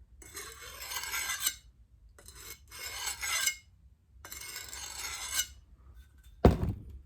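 A file rasps along one side of a tool blade in four rough strokes with short pauses between, ending in a sharp metallic clank.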